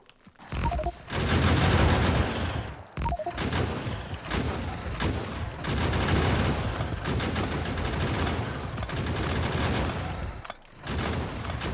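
Gunfire from a player's gun shooting at alien worms in the factory-building game Factorio, a loud, dense, continuous stream of rapid shots with two short breaks, close and filling the scene with mechanical clatter.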